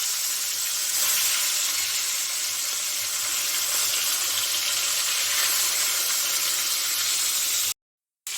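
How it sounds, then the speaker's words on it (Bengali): Katla fish frying in hot mustard oil, a loud, dense, steady sizzle close up that runs without pause before cutting off abruptly near the end. "সর্ষার তেল দিয়ে দিচ্ছি মাছটা আমি এখন ভেজে নিচ্ছি"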